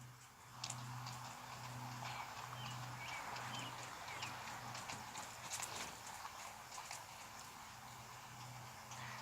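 Horse hooves beat out a rhythmic three-beat canter on soft ground, faint and steady throughout, with a low hum in the background.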